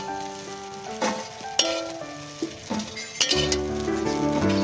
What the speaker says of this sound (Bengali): সয়াবিনগুলো ভাজা হয়ে গেছে নামিয়ে নেব